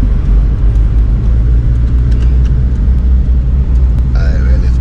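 A van's engine in Africa pulls off in second gear, giving a loud, steady, close rumble that holds throughout with no clear change in pitch.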